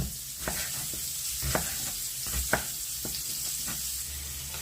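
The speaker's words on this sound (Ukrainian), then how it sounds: "Ось так сало нарізали, сковорідка розігрілася. Викладаємо." Cut pork fat (salo) frying in a preheated skillet, with a steady crackling sizzle broken by soft scraping stirs and occasional sharp pops at a moderate distance.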